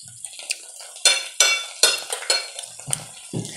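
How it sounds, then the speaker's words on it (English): Onions fry in a pot for jollof rice, with bright sizzling broken by sharp bursts of a utensil scraping and clattering against the pot in an uneven stirring rhythm. "onions are frying, so I reduce the fire again to two."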